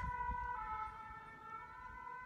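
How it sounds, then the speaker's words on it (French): Ambulance siren passing outside, a steady wailing tone carrying through the whole stretch, fairly faint and distant, with low rumble of traffic beneath and no talking. "Là c'est l'ambulance"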